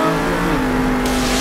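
Monster truck engine in the Monster Jam Steel Titans 2 racing game, a steady loud revving drone with a rising pitch as the truck gains speed, continuous and close with no talk.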